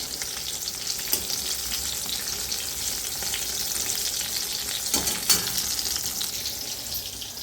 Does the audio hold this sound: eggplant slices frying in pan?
yes